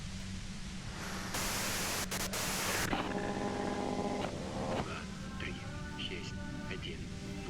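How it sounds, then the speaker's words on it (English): Loud white noise from a video game hisses steadily and fills the mix, with a sharp harsh burst near the middle, while people talk over it and a tonal sound with steady harmonics plays briefly. "you can do it through the white noise"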